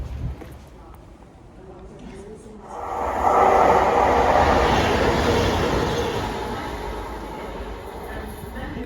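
A high-speed train to Edinburgh passes through Penrith station without stopping, a quiet start swelling after a few seconds into a loud, sustained rushing roar with a high whine that slowly eases, and speech is heard alongside it.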